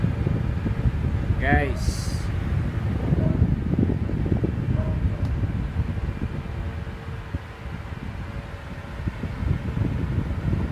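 An air mist cooler's fan motor, fitted with a replacement stator, runs at speed one with a steady, even whir and airy rush the whole time, while someone talks over it.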